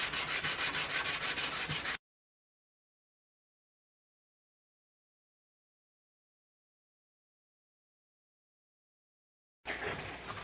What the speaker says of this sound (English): I may do a little bit more sanding on the saw side here